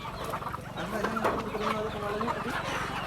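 A crossbred hen clucks repeatedly nearby in soft, rhythmic bursts, with other chicken sounds mixed in throughout the short stretch.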